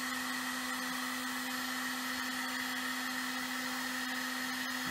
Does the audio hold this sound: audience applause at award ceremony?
no